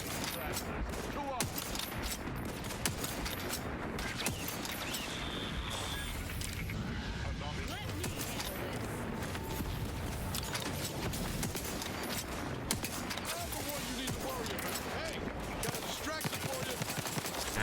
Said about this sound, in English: Shoot the minigun.